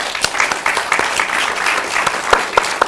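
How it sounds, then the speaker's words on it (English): An audience claps through a round of applause at a documentary-industry event, dense continuous clapping with sharp individual claps standing out, moderately loud and close, with a faint voice underneath. "give Andrew and Paul a big round of applause"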